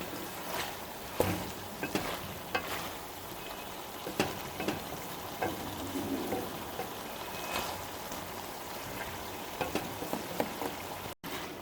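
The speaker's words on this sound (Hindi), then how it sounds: "अब हम 10 से 15 मिनट के लिए फ्राई कर लेंगे अच्छी तरह।" Chicken frying in a pan for Pakistani-style bhindi gosht gives a steady low crackling hiss, with scattered louder pops and a few clatters near and close, and no voices.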